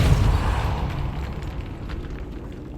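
A Depulso spell cast in the game Hogwarts Legacy, a loud deep burst at the start that fades into a rumbling, airy decay over a few seconds.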